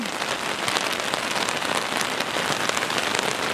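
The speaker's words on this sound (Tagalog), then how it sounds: "we are so wet in the rain. Lakas ng ulan" Heavy rain pours onto a city street on Beijing Road in Guangzhou, a dense, loud, unbroken hiss of drops pattering on the pavement close by, with no talking.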